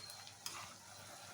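Ivy gourd pieces fry in a pan with a soft, continuous sizzle and a brief stirring scrape, faint and close, with no voices.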